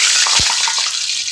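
Poori deep frying in hot oil, a steady bright crackling hiss that runs without pause, with one soft low thump partway through.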